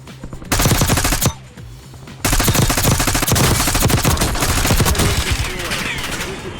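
Dense, loud rapid gunfire rattles almost continuously in a Warzone match, with a short lull before the shooting resumes and carries on to the end; a voice is faintly mixed in.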